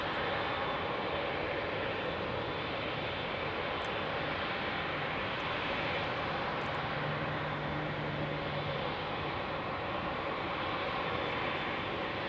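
An airliner taking off from Heathrow Airport at night gives a steady, broad jet roar that holds at moderate distance throughout, with no voices.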